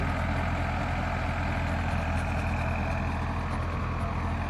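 A farm tractor without lights runs along a foggy rural track at dusk, its engine giving a loud, constant, close droning rumble with no pauses.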